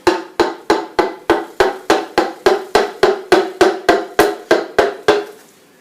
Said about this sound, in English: And you just tap with the end of the hammer,